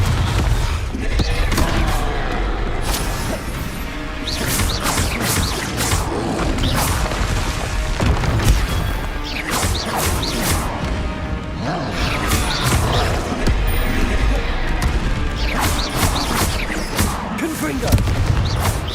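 In Hogwarts Legacy, Confringo blasting spells go off again and again in a battle, booming bursts and crackling impacts spread across the whole stretch, with voices shouting now and then over the din.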